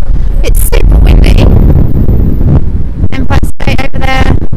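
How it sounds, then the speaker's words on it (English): Strong wind on the Brooklyn Bridge in New York City buffets the microphone with loud, continuous roaring gusts, rumbling low and constant throughout, with brief rustling scrapes. "It's super windy."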